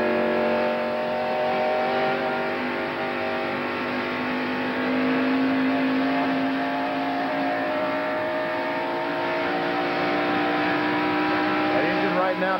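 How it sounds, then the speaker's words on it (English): From inside the Budweiser stock car driven by a driver at the 1989 AC Spark Plug 500, the engine screams at a steady, high-revving roar near 8,000 RPM, loud and unbroken, with voices faintly underneath. "inside that race car, it sounds like it wants to fly apart"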